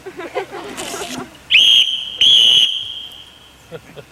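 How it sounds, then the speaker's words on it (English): Two sharp, shrill whistle blasts, the second slightly longer, following a few spoken words nearby, on a field at a 1990 boys' camp. "2 blows, 2 tweets from my whistle."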